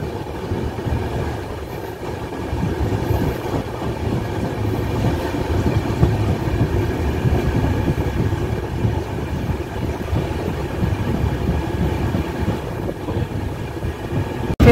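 The Sikkim Mahananda Express runs through deep forest near Sevoke in the Dooars elephant zone, a continuous close rumble of wheels and rattling carriages that holds steady throughout.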